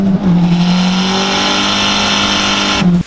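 A boosted Honda EG hatchback with an open differential launches hard, its engine holding a loud sustained drone with tire squeal from one-wheel spin, close and continuous for a few seconds.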